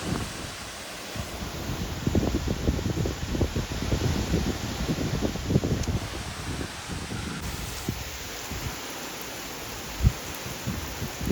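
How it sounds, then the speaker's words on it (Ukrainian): Strong wind blows steadily outside, a continuous rumbling gusty roar with buffeting on the microphone and rustling, with no talking and a thin high electronic tone over it. "таке вітрисько. Це страшне щось."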